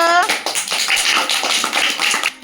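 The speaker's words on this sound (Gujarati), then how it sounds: "જોરદાર તાળી પાડો તાળી પાડો" Many small hands of children clap together in quick, uneven bursts, a loose group applause close by in a classroom activity, with a voice briefly heard at the start.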